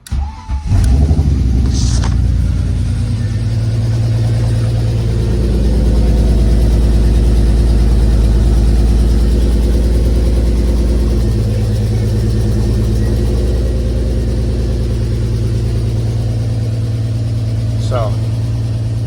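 A BMW E46 engine cranks and catches on a cold start, then settles into a steady, rumbling idle that runs close and loud for a long stretch, with a brief voice over it.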